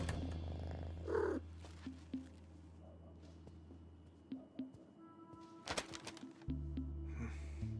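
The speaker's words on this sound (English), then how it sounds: "Oh, a kitty cat." A cat purrs steadily in the video game As Dusk Falls, a soft continuous rumble close by with a few faint clicks and thumps over it.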